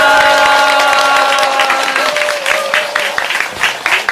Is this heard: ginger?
no